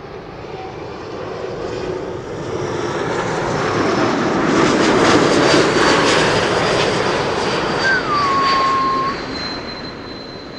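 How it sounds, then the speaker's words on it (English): KLM Embraer E195-E2 jet landing on arrival from Zurich: a loud engine roar that builds to a peak mid-clip and then fades slightly, with a rising whine, heard from nearby. "This is an E2 Embraer 95 KLM flight 1918,"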